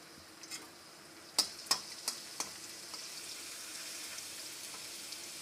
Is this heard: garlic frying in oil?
yes